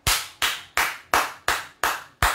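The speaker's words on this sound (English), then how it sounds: "Give the best clap of praise for Jesus." Congregation at a church service claps in unison, seven sharp, evenly spaced loud claps in a steady rhythm with no voices.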